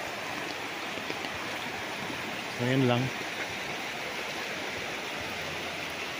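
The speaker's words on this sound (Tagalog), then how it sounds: "Dinig natin yung lagaslas ng ilog mga kaprops eh." A river runs beside a farm lot in Nagcarlan, Laguna, in the rainy season, giving a steady broadband rush of flowing water throughout, with a short spoken phrase over it near the middle.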